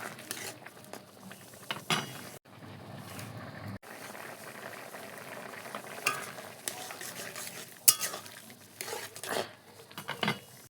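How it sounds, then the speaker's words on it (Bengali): A watery curry of potatoes, vegetable stems and jackfruit seeds cooking in a pan, giving off a soft, uneven sizzle and bubbling broken by occasional utensil scrapes and knocks, with no voices. "এই দেখো কি আর কব, রান্নার এত ভালো শব্দ"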